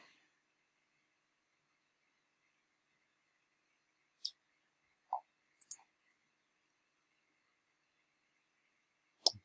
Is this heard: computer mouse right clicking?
yes